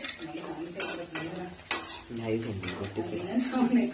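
Onions, green chillies and curry leaves frying in a pan, a soft steady sizzle under clinks and scrapes of a stirring spoon against the metal, with someone talking over it.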